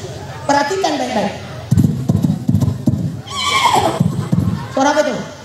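A voice imitates a horse, giving whinnying neighs and clip-clop sounds in bursts, close and loud, with brief pauses between.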